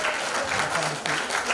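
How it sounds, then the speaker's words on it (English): Dense, steady applause from a crowd at a qawwali night, welcoming a qawwali band, fills the whole stretch, with a faint voice briefly audible in the middle. "give them a big round of applause"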